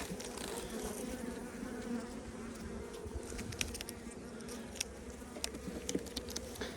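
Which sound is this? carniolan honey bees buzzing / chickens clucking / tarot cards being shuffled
carniolan honey bees buzzing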